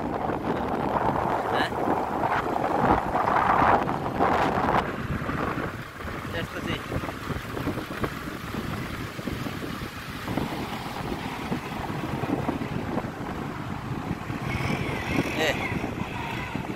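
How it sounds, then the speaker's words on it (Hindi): Strong desert wind roars and buffets the microphone through the whole stretch, loud and continuous, with brief human sounds now and then on a desert bike outing. "हावा यस्तो चलेको छ कि माई गॉड"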